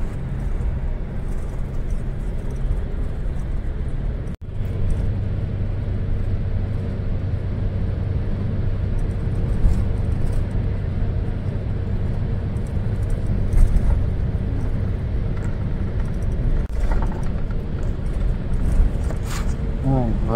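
Steady engine and road rumble inside a fast-moving Kencana Avante D2 coach on a toll road between Tangerang and Java towns, continuous and loud, with talk inside the bus at times.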